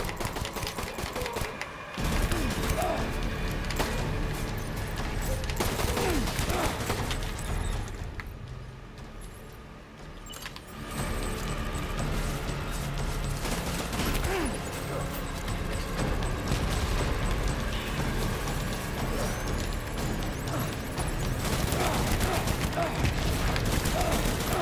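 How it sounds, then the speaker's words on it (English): Assault rifle fire in Death Stranding, loud and sustained, with rapid crackling bursts packed into a dense wall of game noise and one brief lull before it resumes. "Assault rifle."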